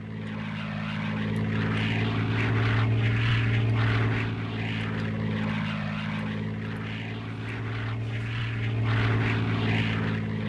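A propeller airplane flies overhead in the World War II strategy game Codename: Panzer Phase One, a loud, steady engine drone that swells and fades slowly and fills the whole stretch without talking.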